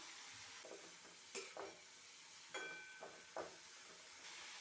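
Steady sizzling and frying of cabbage in a pan over medium flame, with a few sharp scraping stirs of a spatula against the metal.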